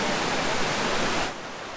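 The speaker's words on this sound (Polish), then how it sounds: "Zobacz, jakie to są wodospady." Waterfalls at the Terme di Saturnia hot springs in Italy roar as a steady broadband rush of falling water, loud and close, easing off slightly near the end with no talking.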